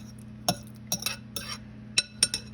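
Meatloaf mixture being mixed in a bowl, a few sparse clinks and scraping taps of a utensil against the dish over a low steady hum, quiet and irregular.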